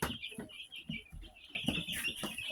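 Newly hatched ducklings peep in high, rapid chirps as they are placed into a brooder, their calls close, overlapping and steady over light handling noise.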